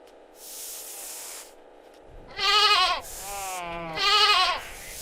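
A goat for sale bleats twice nearby, loud and wavering, each cry lasting about half a second, separated by bursts of hiss and a low background hum.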